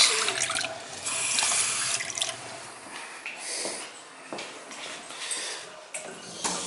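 A house faucet runs steadily to purge air from plumbing lines after the water is turned back on, a soft hissing splash with occasional sputters and bursts as trapped air spits out, alone and fairly quiet.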